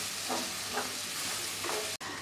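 Chopped onion with green chilli sautéing in a pan, a soft, low sizzle with faint stirring scrapes and a brief clatter at the end.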